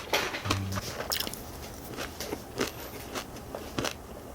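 Crisp, crunchy stir-fried anchovies from a gimbap gift set being chewed close to the mic, with a series of sharp crunches coming at an uneven rhythm.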